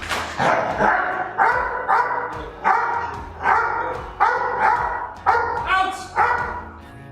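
A protection dog barks loudly and repeatedly on command in a steady, insistent rhythm, close by, about ten barks with no pauses between bursts.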